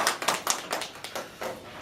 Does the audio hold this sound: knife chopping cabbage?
no